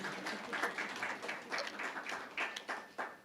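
Audience members clap at a regional conference on forced migration, a fairly faint, loose patter of applause with uneven individual claps that thins out toward the end.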